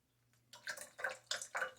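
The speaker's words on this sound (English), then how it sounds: "As I shake most of the water out of my brush." A wet shaving brush is shaken out over a sink, throwing off water in four or five quick splattering bursts, close and distinct, following a moment of near quiet.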